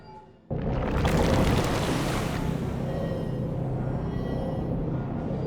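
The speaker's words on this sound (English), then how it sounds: "the Alliance's camp disappeared under waves of water with a very satisfactory gurgling sound" A dam bursts in the video game Dungeons 2, and a loud sudden rush of water sweeps over a swamp camp. The roar starts abruptly and keeps up as a dense, steady flood of sound with no voices.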